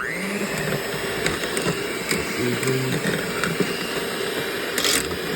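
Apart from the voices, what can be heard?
blender shredding cooked chicken in Instant Pot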